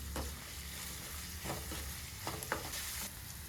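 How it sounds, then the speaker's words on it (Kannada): Sliced onions sizzle in a pan while they fry toward golden brown for a Karnataka-style raw mango rice, with soft scraping stir strokes at a steady close level and no speech. "ಈರುಳ್ಳಿ ಗೋಲ್ಡನ್ ಬ್ರೌನ್ ಆಗೋವರೆಗೂ ಚೆನ್ನಾಗಿ ಫ್ರೈ ಮಾಡ್ಕೋಬೇಕು."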